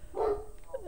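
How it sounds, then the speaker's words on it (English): A dog barks in the background, a single short bark near the start followed by fainter whimpering tones, moderately distant and fairly quiet. "That's just my dog barking in the background."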